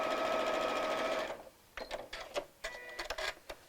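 A sewing machine stitching the hem of a small cotton Barbie doll dress whirs steadily for over a second, then stops, followed by a few quiet clicks and mechanical taps.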